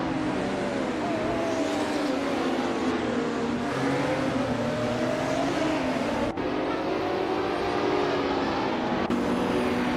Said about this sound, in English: Hope you're ready to see some awesome AI cars race around the track.